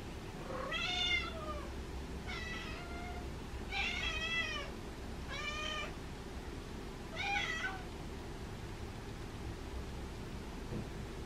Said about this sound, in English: Nancy came to see what Sammy was meowing about